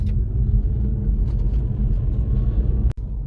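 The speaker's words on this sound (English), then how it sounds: "And now I'll just drive, it says, for 5 minutes to cool the brakes off." A Tesla Model S P100D with Powerstop Z26 Street Warrior brakes drives along a road, giving a steady low rumble of road and cabin noise that briefly cuts out near the end.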